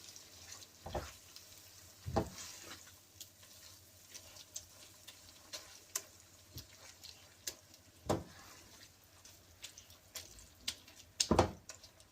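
Yogurt frying in a pan over a low flame for aloo keema, a faint steady sizzle broken by scattered sharp scraping stirs and clicks, with no talking.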